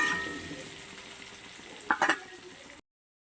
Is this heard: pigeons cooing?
no